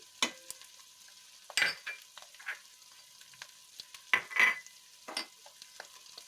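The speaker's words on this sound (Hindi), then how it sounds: "मैं इसमें डाल रही हूँ जिंजर गार्लिक पेस्ट 1 स्पून" Ginger garlic paste frying in hot oil, a low hiss under repeated bursts of spoon scraping and stirring at irregular intervals, close by, with no talking.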